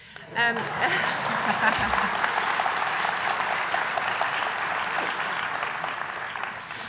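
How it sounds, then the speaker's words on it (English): Audience clapping at a university graduation ceremony, starting abruptly and holding as a sustained, even round of applause from a large crowd, with some faint talk mixed in. "Feel free to clap to acknowledge that you agree with me."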